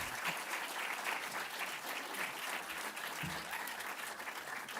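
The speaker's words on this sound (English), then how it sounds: "I'd like for you to give a round of applause to Chris Fitzsimon, Hannah Gage, Howard Lee," Steady applause from a debate audience for the four panelists, dense and sustained throughout at moderate loudness, with no speech over it.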